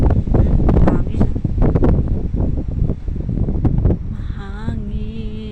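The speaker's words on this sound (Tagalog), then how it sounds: "Mahangin. Malamig ang hangin." Cold wind blowing across an outdoor garden, a steady low roaring rumble buffeting the microphone throughout, with faint rustling and a brief tonal whine near the end.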